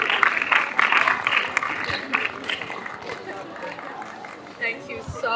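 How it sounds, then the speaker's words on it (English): Live-event audience applauding after a poem reading: a full burst of clapping that gradually thins, with crowd chatter mixed in and a few sharper claps near the end. "Another round of applause"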